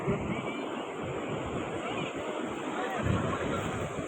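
Sea waves wash onto the shore at Shivrajpur beach in a steady, fairly loud surf with wind noise, and faint voices sound in the background.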